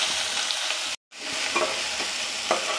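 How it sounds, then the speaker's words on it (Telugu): Onions fry in oil for uggani, a continuous close sizzle with a few light stirring clinks, briefly cut to silence once midway before the frying resumes; nobody speaks. "ఇప్పుడు ఎర్రగడ్డలు బాగా ఎర్రగా వేయించుకోవాలి"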